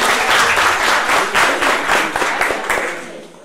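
Loud, dense applause from an audience at a tribute ceremony, many hands clapping together close by and then thinning out toward the end.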